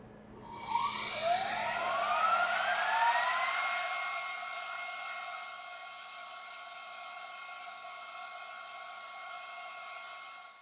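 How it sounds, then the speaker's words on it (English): A CNC machine spindle runs its warm-up program, spinning up with rising whines that settle into a steady high-pitched hum, loud at first then holding evenly. "let's go ahead and run the spindle warm-up program"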